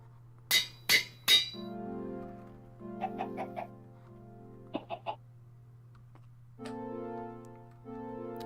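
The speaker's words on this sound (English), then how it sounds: "I gotta put a chicken in here." Minecraft chickens cluck in short bursts, several brief clucks in small clusters with pauses between, fairly close and with no talking over them.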